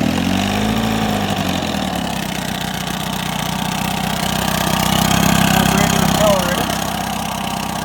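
A 1971 Johnson 6hp outboard motor running after a carburetor and fuel pump rebuild, a steady buzzing engine note that shifts pitch early on, with a voice talking over it.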